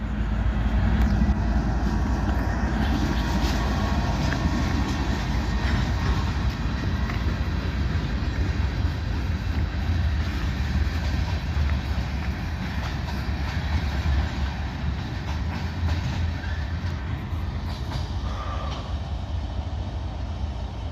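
A railroad switcher locomotive rolls past in Abbeville, a loud, steady rumble of wheels and engine that lasts throughout, with faint rail clatter and no speech.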